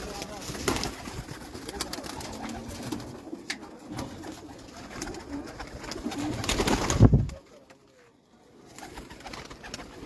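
Competition flying pigeons coo in soft repeated bursts at close range, mixed with rustling and someone speaking over them, before a brief quiet stretch.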